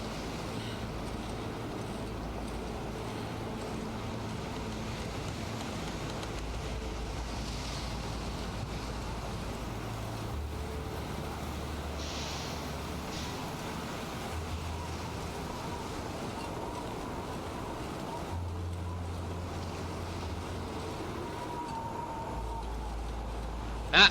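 Steady wind blowing through The Long Dark's snowy wilderness, a continuous low rushing roar with gusty swells, fairly loud and unbroken throughout with no talk.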